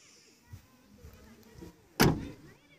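Tata Nexon 2021 XMS boot being opened: faint soft clicks and handling noises, then a single sharp latch clunk with a brief rattling tail, quiet and close by.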